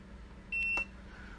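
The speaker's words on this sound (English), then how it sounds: "hold the power button on your device for 5 seconds until you hear it beep" Two short electronic beeps in quick succession from an OKP Life K2 robot vacuum, clear and close, over a quiet background hum.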